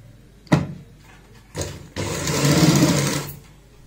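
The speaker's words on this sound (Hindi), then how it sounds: "जहां पे बैठेगा वहां पे मिलाते हुए हम सिलाई लगाएंगे" A sewing machine stitching a baby frock: two short bursts, then a longer steady run of fast mechanical whirring, close and loud, with no voices.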